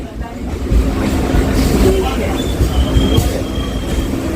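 A Sealdah division suburban train rolls into a station with a heavy rumble of wheels on rails, light squealing and a faint high whine, loud and close throughout.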